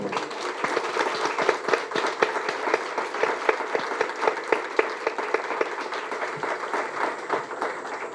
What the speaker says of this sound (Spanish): Bueno, un aplauso para la biblioteca.